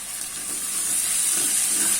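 Two large tomatoes fry with bottle gourd in a pan, a steady, close hissing sizzle that holds evenly throughout without pauses.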